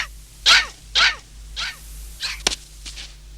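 A cartoon dog barks and yips several times in quick, sharp bursts, close and fairly loud, with short pauses between them and no talk over the barking.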